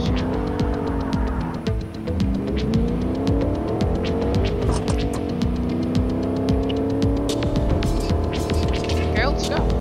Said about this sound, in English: Drive the truck up to the trees,